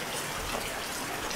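Rain falling during a downpour with flooded roads, heard as a steady, dense hiss of drops on surfaces, fairly faint and continuous throughout with no voices.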